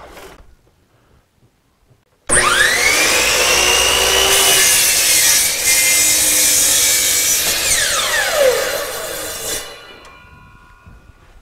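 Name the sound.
miter saw cutting wood board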